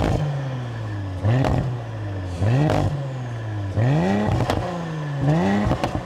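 An Audi RS4 engine blips through several quick revs, each a rising snarl settling back to a low idle, close and loud, with crackles between bursts.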